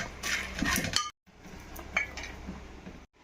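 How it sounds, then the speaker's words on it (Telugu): Phool makhana dry-roasted in a pan with no oil, the puffed seeds rattling and clinking against the metal in a steady close stir, broken by one short pause before the rattling resumes. "పూల్ మకన కర్రీ చేసుకోవడానికి ముందుగా బాండీ పైన ఆయిల్ అది ఏం వేయకుండా పూల్ మకన కొంచెం రోస్ట్ అయ్యే వరకు వేపుకోవాలి"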